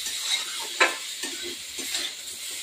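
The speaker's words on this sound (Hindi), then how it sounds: "अच्छी तरीके से इसे हमें मिक्स कर लेना है" Vegetables fry in a pan with turmeric as a utensil stirs them, giving a steady close sizzle broken by a few sharp scraping strokes, with no voices.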